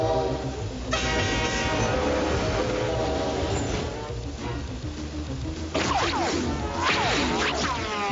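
Trains in a Sonic cartoon rumble and clatter loudly over the rails toward a junction while horns sound repeatedly, rising and falling as they draw near.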